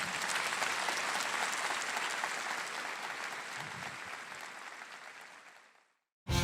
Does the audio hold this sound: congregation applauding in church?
yes